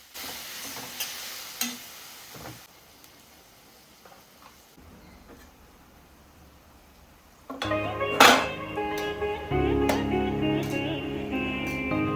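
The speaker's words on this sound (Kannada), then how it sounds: "ಆಮೇಲೆ ಒಂದು ಸ್ವಲ್ಪ ಹೊತ್ತು ಫ್ರೈ ಅದು ಸಾಫ್ಟ್ ಆಗೋವರೆಗೂ ಸ್ವಲ್ಪ ಫ್ರೈ ಮಾಡ್ಕೊಳ್ತಾ ಇದ್ದೀನಿ" Grated raw mango fries in a pan for mango rice. The first half is quiet, then a close sizzle with stirring clatter rises and continues to the end.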